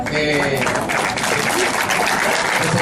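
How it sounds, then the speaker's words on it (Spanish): An audience at an education panel applauds to welcome a teacher, a thick, sustained round of clapping at steady loudness for about three seconds, with a faint voice briefly audible beneath it. "con un fuerte aplauso al profesor Jesús Rafael Méndez"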